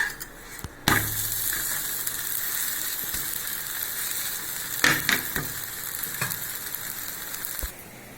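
A horse gram vegetable dosa sizzles steadily on a hot pan with sesame oil, a continuous crackling hiss broken by a few sharp metallic clanks of the spatula.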